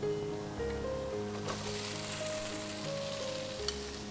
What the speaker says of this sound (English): Now it's time to drop in our mixed prawns and cabbage mixture